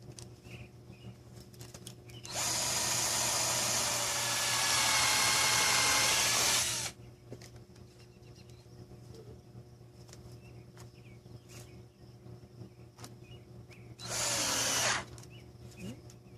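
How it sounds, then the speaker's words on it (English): A power drill drills pilot holes in a greenhouse frame, whirring for about four seconds, then quiet, then a second shorter burst of drilling, close by over a low background hum. "going to drill some pilot holes on this side and that side"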